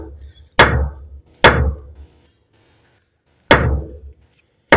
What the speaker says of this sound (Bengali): এইভাবে স্যাপটাকে এই বেয়ারিংয়ের মধ্যে লাগাবেন, তারপর এইভাবে ধরে কাঠে মারতে হবে।